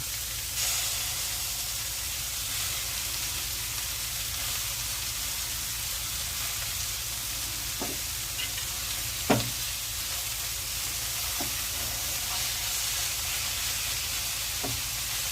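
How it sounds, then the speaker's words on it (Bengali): Boneless chicken and broccoli fry together in a pan, a steady loud sizzle with occasional sharp clicks and scrapes of stirring throughout. "চিকেনটাও ব্রকলির সাথে ভালো করে ভেজে নিচ্ছি।"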